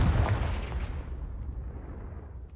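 A Confringo spell blast in Hogwarts Legacy hits as a single booming explosion that rolls off and fades with a rumbling tail over a couple of seconds.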